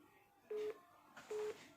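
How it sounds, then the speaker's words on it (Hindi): A phone rings in two short electronic bursts, each about a quarter second long, with no talking over them. "फोन आ गया है किसी का"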